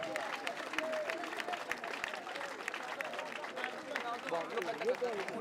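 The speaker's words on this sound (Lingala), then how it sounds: "Bravo à l'artiste, un peu applaudi très fort pour Naomi Kipolo." An audience applauds artist Naomi Kipolo with faint, steady clapping and crowd murmur at a distance, with voices mixed in.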